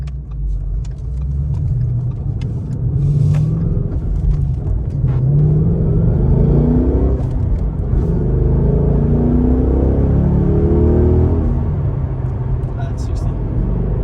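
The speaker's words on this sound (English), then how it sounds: "we're gonna do a 0 to 60 pull before the muffler delete" A Ford Mustang GT S550 with its stock exhaust pulls from standstill to sixty, a loud, deep engine rumble building steadily from inside the car for most of the run.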